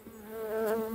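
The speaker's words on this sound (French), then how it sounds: "Ces abeilles-là la connaissent l'entrée." Winter honeybees buzz at a hive entrance, a loud, close droning hum that swells slightly over a second with no voices.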